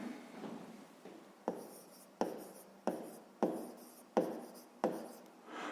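A pen writes an answer on paper during a fifth-grade math exercise, a series of evenly spaced scratchy strokes, quiet and close with no talking.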